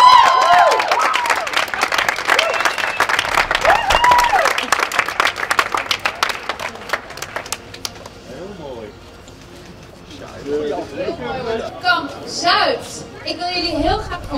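Studio audience at an Expedition Robinson contestant introduction for Famke Louise, breaking into loud sustained applause and cheering for several seconds, then fading as a presenter's voice resumes over scattered clapping.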